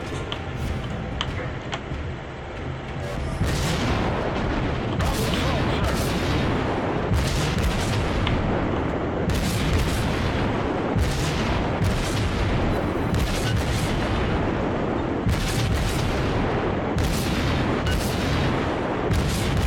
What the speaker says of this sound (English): Keep up our withering hail of gunfire here.